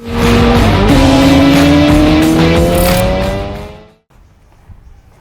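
A Triumph Tiger 800 three-cylinder adventure bike with a Yoshimura exhaust revs loudly up through rising engine tones close by, then cuts out abruptly into quiet.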